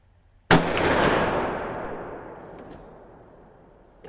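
A Ruger Super Blackhawk .44 Magnum revolver fires a single sharp, loud shot outdoors, followed by a long rolling echo that fades over about three seconds.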